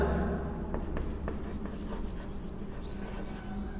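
Marker or chalk scratching across a classroom board during a lesson on narration, with short strokes and taps over a steady room hum, fairly close.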